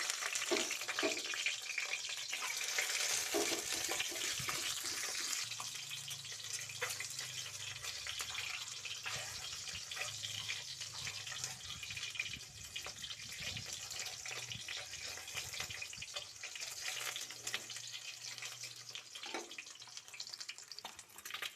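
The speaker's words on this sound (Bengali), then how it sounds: "গরম তেলের মধ্যে প্রথমে আমি ডিমগুলো ভাজা করে নেব" Eggs fry in hot oil with a dense, constant sizzling hiss that holds steady for a long stretch, close and even, with a soft low hum underneath and no talking.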